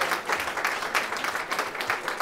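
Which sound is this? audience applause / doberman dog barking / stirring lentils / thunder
audience applause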